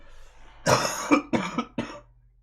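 Four harsh coughs in quick succession, close and loud, over a low steady hum.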